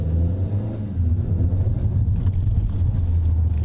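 A 2019 Hyundai Tucson AWD SUV engine idles steadily with a deep, low rumble and a slight rise in revs partway through, with no voices.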